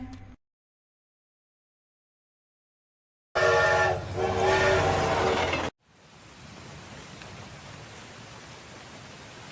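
A loud train horn blares for a couple of seconds, then a train rumbles and rattles along steadily at a distance.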